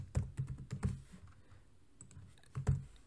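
Typing on a computer keyboard: a quick burst of soft key clicks, a pause, then another short burst, close and quiet in an otherwise still room.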